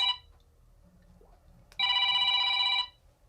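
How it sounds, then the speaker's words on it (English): A telephone rings in one clear, sustained electronic trill lasting about a second, fairly loud and alone, after a quiet stretch with a faint low hum. "Now it's not even showing me the phone or anything. It just rings and rings."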